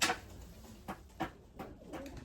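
Racing pigeons coo in a loft, a few soft separate coos spread over a couple of seconds, fairly quiet and close.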